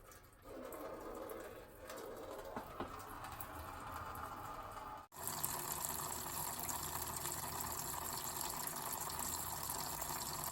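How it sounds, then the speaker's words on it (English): Coolant drains from a 1976 460 engine in a steady, close liquid rush that cuts out briefly midway, then resumes fuller and louder to the end. "Now we're going to start draining the coolant."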